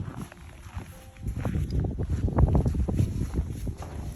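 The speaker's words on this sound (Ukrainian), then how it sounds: "трошки вітерець дує" Wind rumbles against the microphone outdoors in snow, rising and getting louder halfway through, with faint crunching of footsteps on snow underneath.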